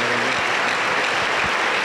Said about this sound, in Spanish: La Iglesia de Cristo le recibe con fuerte aplauso para Cristo Jesús.